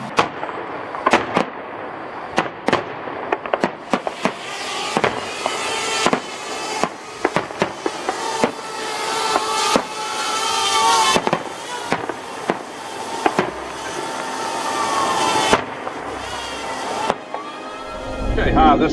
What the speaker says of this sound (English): We're about to look at the fireworks.